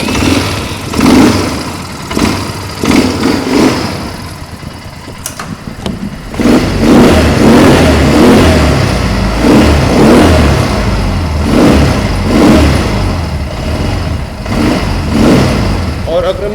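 An ATV quad bike engine starts and revs in repeated rising pulses, loud and close, with people talking over it.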